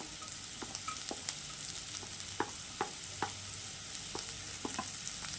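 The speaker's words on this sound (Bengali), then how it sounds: "এবার অ্যাড করে দিচ্ছি রসুন আর আদা কুচি" Garlic and chopped ginger frying in a pan for a dhaba-style egg tarka, a soft steady sizzle broken by repeated light scrapes and taps of a stirring spoon, quiet and close with no talk.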